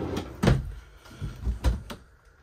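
Wooden dresser drawer sliding and knocking shut inside a travel trailer, a few soft thuds and scrapes in a quiet room, fairly close.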